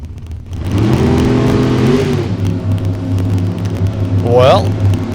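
A race car accelerating hard down the track at a Topeka race, a loud, sustained engine roar with rising harmonics that carries for several seconds, with a brief whine near the end.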